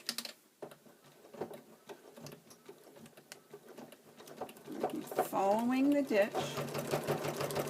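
A sewing machine stitches trim onto a window panel, starting with slow, sparse needle taps and building to a faster, louder run of rapid stitching, with a voice talking over it.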